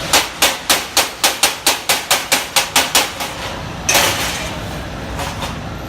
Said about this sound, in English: I'm going to knock this slag off.